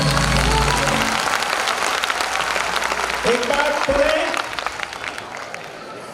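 An audience at a school annual function gives children loud, sustained applause. The crowd noise is dense and close, a voice speaks over it, and it eases off toward the end.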